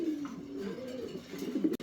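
Yellow Lahori pigeons coo close by in a loft, a low, throaty rolling call that rises and falls, followed by a short sharp knock.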